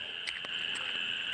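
Frogs calling loudly from rain-flooded farm fields during sowing season, a steady dense chorus of bright, pulsing trills with a few sharper calls standing out, close and continuous with no talking.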